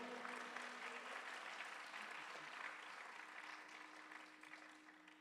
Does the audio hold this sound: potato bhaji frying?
no